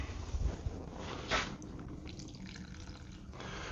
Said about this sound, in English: Okay, we need some water for this.